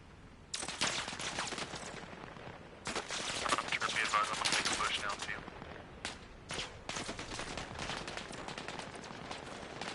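Gunfire in the video game Eclipse Protocol, heard as dense rapid bursts of shots in several sustained volleys separated by short pauses, loud and close.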